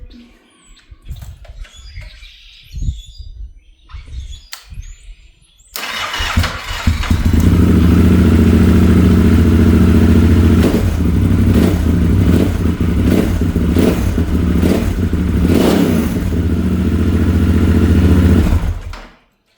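After some clicks and fumbling, a Yamaha XT1200Z Super Tenere motorcycle engine cranks and fires, then idles loudly and revs up and down several times before cutting off.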